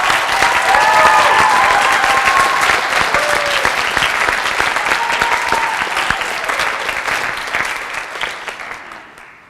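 Sustained audience applause at a high school spring orchestra concert, a dense wash of many hands clapping that stays loud for most of its length before thinning out near the end.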